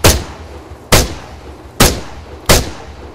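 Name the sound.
gunfire in video game Arma 3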